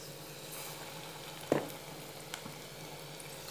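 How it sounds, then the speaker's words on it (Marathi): Gram-flour-coated chillies frying in hot oil for mirchi bhaje, a steady low sizzle close by with one brief louder splash or bubbling burst partway through, no talking. "गरम तेलामध्ये आपल्या मिरच्या ज्या आहेत त्या सोडून घ्यायच्या आहेत ह्या पद्धतीनं।"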